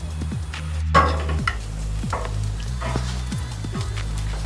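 A rack of pork sears and chars over a smoker grill, a steady close sizzle running throughout, broken by a few sharp clanks and scrapes of handling and brief low voices in the background.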